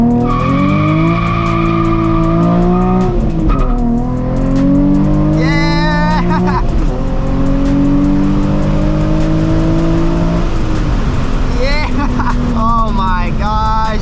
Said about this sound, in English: Smokes the tires with absolute ease